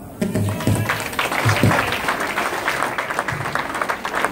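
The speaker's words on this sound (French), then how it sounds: "On applaudit, on applaudit." Guests at a birthday celebration applaud in a steady wash of clapping, moderately loud and close, with some voices mixed in underneath.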